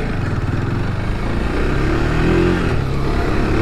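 KTM RC390 motorcycle engine running steadily while riding, a continuous loud droning hum with slight rises in pitch, close and alone with no talk.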